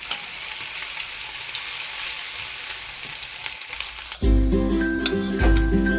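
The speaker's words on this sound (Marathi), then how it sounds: "छान असे डीप फ्राय करून घेऊया गॅस मंद आचेवरती ठेवायचा म्हणजे पूर्ण आतमध्ये फ्राय होऊन जाईल" Soybean kebabs deep fry in hot oil over a low gas flame, giving a steady, dense sizzle and bubbling. For the last two seconds a louder, tonal, harmonic sound layers over the frying.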